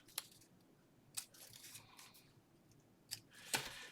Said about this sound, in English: Then I just cut the little corners off of it.